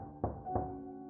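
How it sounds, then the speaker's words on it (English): Two firm knocks on a door, close and fairly quiet, spaced about a third of a second apart over a low steady hum, with no one speaking. "we heard a knock on our door"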